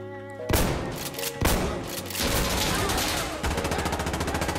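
Loud, rapid bursts of shotgun fire in the video game Insurgency: Sandstorm, heavy booming blasts in quick succession followed by a steady rattling volley, with faint talk beneath.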